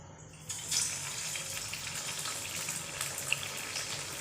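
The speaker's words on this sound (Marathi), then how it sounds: "चला तर मग याच्यात वडे सोडूयात।" Sabudana vada frying in hot oil over a medium gas flame gives a steady, soft sizzling hiss that rises slightly near the start and continues evenly, with no talking.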